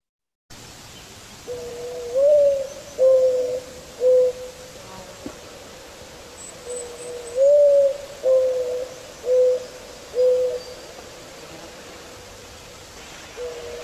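A bird related to pigeons gives a series of soft, low hooting coos, about eight in two phrases, moderately close against a quiet steady background hiss, no talking.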